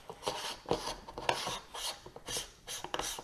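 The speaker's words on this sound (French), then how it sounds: "On va venir dévisser ici l'adaptateur 2 pouces." The 2-inch adapter on an Askar V telescope is unscrewed by hand, producing close, soft, repeated rasping and rubbing twists of metal threads in short irregular strokes.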